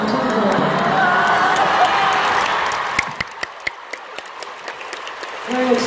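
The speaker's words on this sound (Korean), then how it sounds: "박수 한번 쳐주세요" A large concert crowd at a fan event applauds and cheers loudly, then the roar thins into scattered individual claps near the end, with a voice returning at the close.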